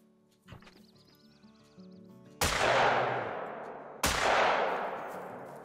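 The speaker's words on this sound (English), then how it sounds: "I didn't need to shoot him twice there, but we did just put him down with the 12 gauge slugs" Two heavy 12 gauge slug shotgun blasts fired at a grizzly bear in theHunter: Call of the Wild, each a sharp loud boom with a long decaying tail, spaced about a second and a half apart over faint ambient wilderness sounds.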